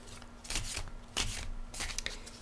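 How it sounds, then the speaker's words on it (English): Tarot cards are shuffled and pulled in three quick papery riffling bursts, close and fairly quiet, with no talking. "pull one more tarot card and see what we get"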